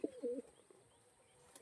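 A pure tiger-breed female pigeon gives a brief, close coo at the start, a short low throaty burst that fades into quiet background.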